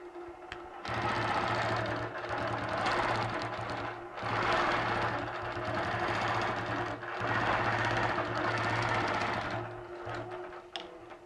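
A sewing machine runs a string of quilt stars in several long steady bursts with short pauses between, a close, even mechanical whir with no talking.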